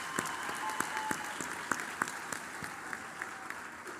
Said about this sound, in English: Another round of applause for our graduands.